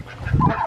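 A turkey calls close by, a single brief honking, gobbling cry less than a second long, with no talking.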